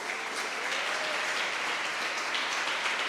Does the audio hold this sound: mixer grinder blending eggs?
no